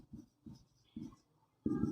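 Chalk or marker writing on a board during a maths lesson on arithmetic progressions, heard as faint, brief tapping and scraping strokes in short separate bursts with a slightly louder final stroke.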